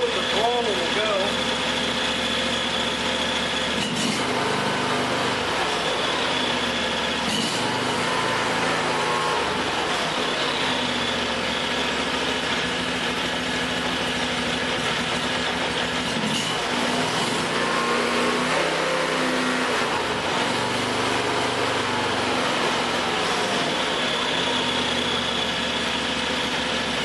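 A Harbor Freight Predator 670cc 22 HP engine, new and without load, idles at its lowest throttle setting with a steady, loud, continuous rumble, a person talking over it.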